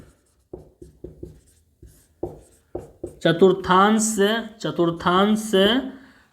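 Chalk or marker tapping and scratching on a board during a maths lesson, sounding as a series of short strokes that continue under someone speaking Hindi.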